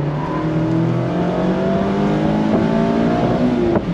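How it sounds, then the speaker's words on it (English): A 2024 Mazda MX-5 Miata sports car engine revs hard on track, a loud continuous drone climbing steadily in pitch as the car accelerates, with no talk over it. "The engine is so rev happy. It just wants to rev and rev and rev."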